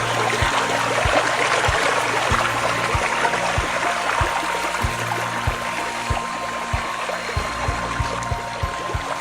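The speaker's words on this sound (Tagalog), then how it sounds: "Napakaganda ng ilog at napakalamig ng tubig, Sir Joko." A cold river flows and trickles steadily nearby, a continuous loud wash of water with a faint rhythmic knocking underneath, no voices.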